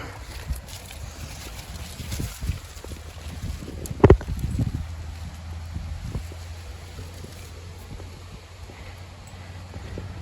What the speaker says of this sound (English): Hopefully the bean tower will hold in this wind.